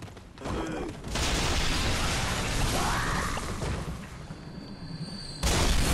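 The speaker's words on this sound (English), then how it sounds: "What caused the second explosion?" A large explosion in the video game Bloodborne sets off a dense, roaring blast with whooshing debris that sustains for several seconds before cutting off and then picking up again.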